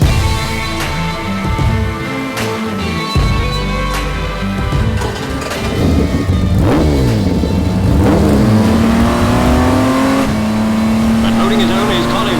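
Racing cars at Goodwood before the News of the World International Car Race roar and rev continuously, one engine rising in pitch as it accelerates past, while a voice talks over the engine noise.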